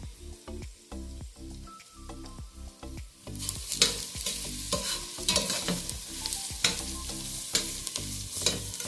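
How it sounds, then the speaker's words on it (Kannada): Vegetables fry in oil in a pan for shavige uppittu: clattering spoon strokes against the pan at first, then a louder, fuller sizzle with repeated stirring scrapes, close and without speech. "ಈಗ ತರಕಾರಿಯನ್ನು ಹಾಕೊಂಡು ಚೆನ್ನಾಗಿ ಫ್ರೈ ಮಾಡ್ಕೊತೀನಿ."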